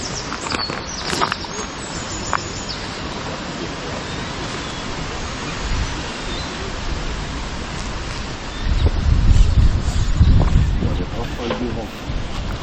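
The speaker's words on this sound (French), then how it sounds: "le vent il est avec nous" Steady wind buffets the microphone in a broad rushing roar that swells louder near the end, with occasional brief movement sounds, at a fishing spot.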